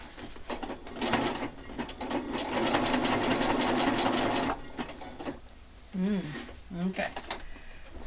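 A sewing machine stitches through a handmade checkbook-style journal, its steady mechanical whir running continuously for several seconds before stopping, followed by brief talk.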